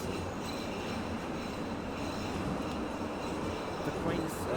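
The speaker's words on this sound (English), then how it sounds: "The train is quite powerful" An 81-720 metro train running in the Metrostroi simulator, a steady broadband rumble of wheels and motors with faint high squeal near the end, continuous and fairly loud throughout.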